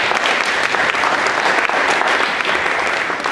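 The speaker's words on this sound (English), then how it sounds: "Let's give these ladies a real nice hand of applause." An audience at a general election voters forum in Benton City, Washington breaks into sustained applause, a dense, loud, even clapping that lasts throughout without any voice on top.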